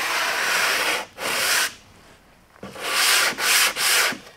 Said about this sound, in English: you just give it a very light sanding. This is 120, and that's all that's required to remove those raised fibers.